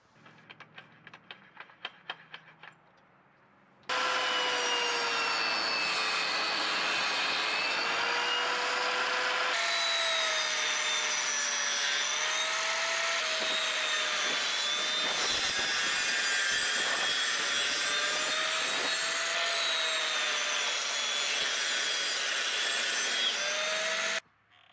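Saw ripping pallet wood boards to width in a shop, a loud continuous cutting whine with shifting pitch that starts after a few seconds of quieter clatter and runs steadily until it cuts off at the end.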